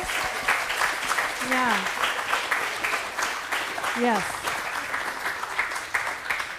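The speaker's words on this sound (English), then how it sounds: "Please give them a round of applause." An audience applauds at a fall choir concert, a dense, steady wash of clapping that fills the room throughout, with a couple of brief voices calling out over it.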